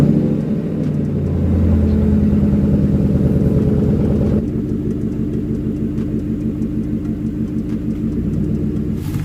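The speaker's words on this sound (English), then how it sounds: "So yeah, just leave it idling for a little bit." A 2010 Mercury Grand Marquis engine idles close by, a steady low rumble with an even pulsing rhythm that shifts slightly in tone partway through.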